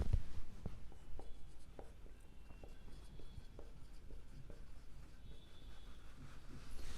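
Close, steady scratching of a pen on paper as figures are written out for an accounts problem, with continuous small strokes over a low background hum and no voices.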